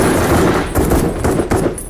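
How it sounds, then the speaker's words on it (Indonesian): A rapid burst of gunfire, several loud sharp shots in quick succession with brief gaps between volleys. "tembakan Lorea tadi sempat mengenai samping perut William"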